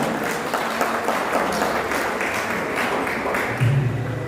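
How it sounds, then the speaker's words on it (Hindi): Loud applause from an audience at a ceremony handing over a historic haveli to the state government, a sustained even clatter of many hands, swelling slightly near the end. "एक बार जोरदार ताली"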